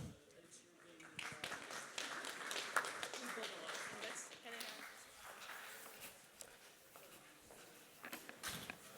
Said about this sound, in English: If we can give our next panel a round of applause.